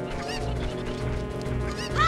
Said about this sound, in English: where are the other chickens?